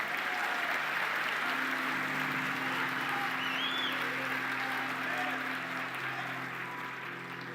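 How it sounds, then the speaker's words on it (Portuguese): A large audience at a church conference claps continuously, a dense, steady wash of applause lasting several seconds that tapers slightly toward the end. "Dê uma salva de palmas para Jesus."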